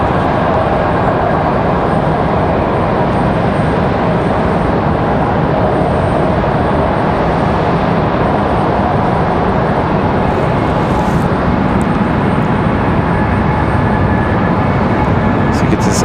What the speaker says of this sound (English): Delta off to LaGuardia at A220-100